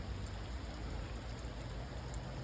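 Steady rain falls across a park at night, a continuous dense hiss of drops with no pauses, even and moderately loud throughout.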